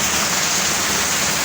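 Heavy rain pouring down as a constant, loud wash of hiss with no break, close by and with no voices over it.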